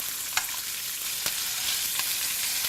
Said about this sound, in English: you try to brown the pork belly. So put it on its skin side first